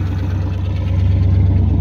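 A vehicle engine runs with its exhaust knocked loose from the hangers, giving a loud, close, steady rumble with a fast, even pulsing throughout.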